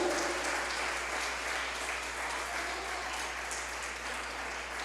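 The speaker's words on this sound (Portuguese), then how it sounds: "Será que você pode aplaudir o Senhor por isso?" A church congregation applauds during a service, a steady, dense wash of clapping from many hands that holds at an even level for about five seconds without a break.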